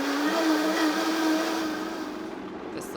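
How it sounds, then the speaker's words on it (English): A blender whirs steadily, blending a thick Bloody Mary mocktail made with bone broth. The motor drone stays loud and even for most of the run, then eases off near the end. "Blend it up. Make sure the lid's on properly."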